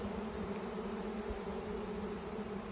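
A swarm of bees during a bee-vacuum swarm catch in Ohio gives a dense, continuous buzzing hum, close and steady, with no talking.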